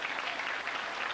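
Audience applause at a youth optimist banquet, a steady dense wash of clapping from a seated crowd filling the short moment with no voices over it.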